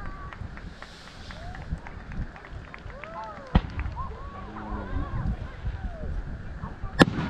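A few sharp fireworks bangs ring out over crowd chatter and voices at a camping event, with crackling in between and two louder pops standing out.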